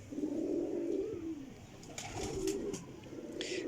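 Soft, low coos from golden pigeons roll in two phrases, close by, with a few light rustles and flutters near the end.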